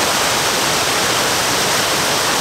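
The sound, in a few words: water flowing over rocky rapids below a pond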